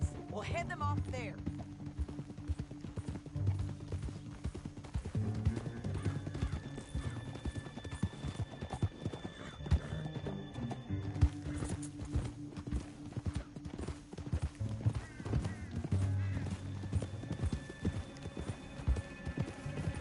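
Horse hooves clip-clop steadily on the ground in Red Dead Redemption 2, a moderate walking rhythm heard under ongoing conversation between riders, with occasional whinnies and a low music bed.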